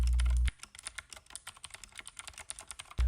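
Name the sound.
typing on Keychron K8 TKL mechanical keyboard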